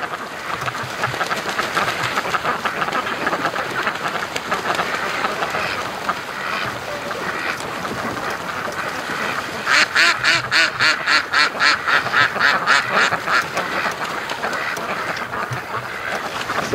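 Ducks on a lake on a cold winter morning give a burst of rapid, rhythmic quacks partway through, rising above a steady outdoor background hiss with no talk.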